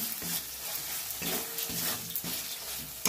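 Crab brains sautéing in spice paste in a pan, a close sizzle with repeated scraping stir strokes coming in a loose rhythm over about three seconds, without any voices.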